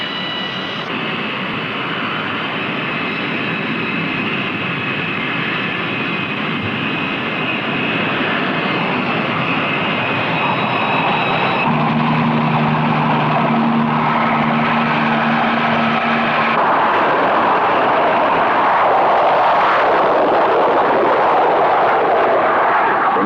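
A 20-ton US Navy jet launching from an aircraft carrier, heard as a loud, sustained engine roar with whining tones that swells and builds in intensity over twenty seconds.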